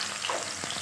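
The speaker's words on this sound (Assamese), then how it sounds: "পিঁয়াজ দিলোঁ" Chopped onions crackle and sizzle in hot oil in a pan for a chicken biryani. The hiss is steady and close, with one or two light scrapes of a utensil.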